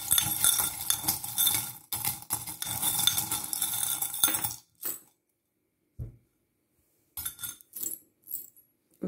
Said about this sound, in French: Allez, les breloques. Donc attention, ça va faire du bruit. Je ferme les yeux et je mélange et puis je prends.